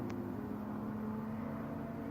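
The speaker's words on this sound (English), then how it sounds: "Car racing. I don't know exactly what kind of cars those are." Distant car racing carries to an Appalachian Trail viewpoint in Connecticut or Massachusetts, a steady low engine drone and whir that holds without a break and stays faint and far away across the landscape.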